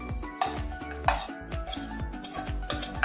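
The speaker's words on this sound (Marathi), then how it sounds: "आपण बटाट्याच्या मिश्रणामध्ये टाकून मिक्स करून घेऊ" Spice blend being stirred into a potato mixture for samosa filling, with soft rhythmic scraping and occasional metallic clinks of a spoon against the pan under a low sizzle, close and fairly quiet.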